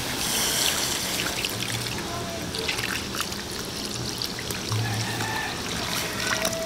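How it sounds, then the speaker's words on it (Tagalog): Water pours and trickles steadily into a cooking pot for several seconds, a close, continuous splashing stream with faint kitchen clatter around it. "Maglalagay na tayo ng tubig."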